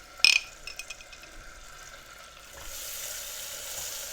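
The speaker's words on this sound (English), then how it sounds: "You see how it's going to bubble up?" Homemade caramel topping bubbles up in a pan. A sharp clink opens it, then a few quiet ticks follow before a soft, steady hiss of bubbling swells and carries on to the end.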